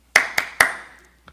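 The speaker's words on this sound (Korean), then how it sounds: "이번 주에 본인에게 아싸! 이렇게 박수 한번 치시고" Hands clap three times in quick succession at a Sunday worship service, sharp and close, then a fainter fourth clap after a short pause, with no talking.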